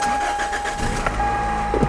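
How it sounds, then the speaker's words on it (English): A car engine cranks briefly and catches, settling into a steady idle, close and fairly loud, all within a couple of seconds. "I crank the car"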